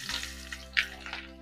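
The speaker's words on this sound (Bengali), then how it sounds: "পেঁয়াজটা দেখো আমি একটু হালকা ভাজা ভাজা করে নেবো আগে" Chopped onions hitting hot oil in a wok for spicy pasta, giving short bursts of sizzle and crackle, one sharper hiss near the middle, over a low steady hum, close and fairly quiet.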